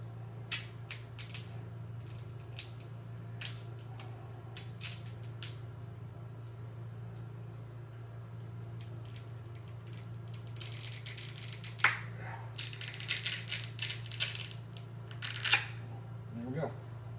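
Support material is peeled off a 3D-printed part, giving sharp plastic clicks, snaps and crackles, scattered early and then denser bursts later, over a steady low hum in the room.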